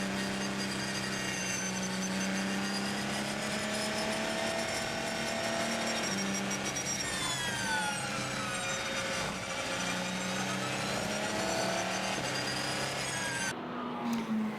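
Race cars at Circuit of the Americas in Texas during the 6 Hours of COTA endurance race, a constant, dense engine drone with layered whines rising and falling as cars pass, ending in a brief dip.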